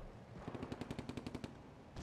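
Automatic gunfire from an armored vehicle in a WWII video game mod: a rapid burst of about ten sharp, evenly spaced shots lasting roughly a second, loud and close.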